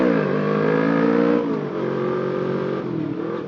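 A Suzuki Inazuma 250 motorcycle engine revs steadily and loudly up close, a smooth droning tone that dips slightly as the revs ease and then holds, with no talking.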